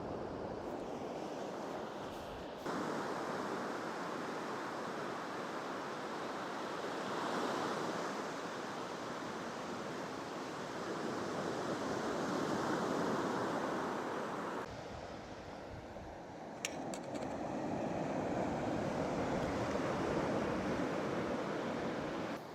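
Ocean surf rolls onto a beach in a steady, broad wash of breaking waves, with wind buffeting the microphone and no talking over the sound.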